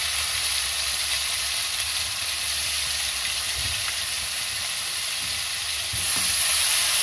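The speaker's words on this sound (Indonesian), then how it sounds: "Bumbunya udah digoreng" Spice paste sizzles and fries in a pan for stir-fried anchovies, a steady close hiss throughout that swells a little louder near the end.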